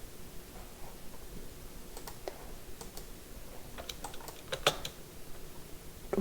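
Computer keyboard keys being typed and pressed, including the Alt key, during After Effects animation work: scattered soft clicks, some in quick clusters, fairly close and quiet, with no talking.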